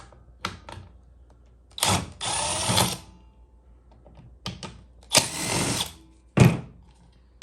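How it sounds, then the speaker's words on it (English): A screwdriver works two screws out of a Mercedes-Benz W123-era door rear view wing mirror during restoration, short bursts of scraping, ratcheting turns separated by quiet pauses, close and clear with no talking. "you're gonna take a screwdriver, and there's 2 screws."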